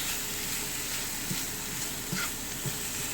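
Shrimp sizzles steadily in butter in a pan, a continuous even crackle with a few soft stirring knocks near the middle and end.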